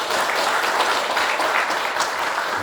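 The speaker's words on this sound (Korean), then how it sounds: "모든 분들께 감사 박수 드립니다." A congregation at a dharma service gives sustained, even applause, a dense wash of many hands clapping together at close range with no voices over it.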